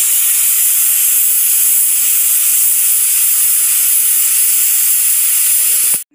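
A loud, continuous high-pitched hiss of escaping steam from a pressure cooker cooking mutton, running steadily and then cutting off abruptly near the end.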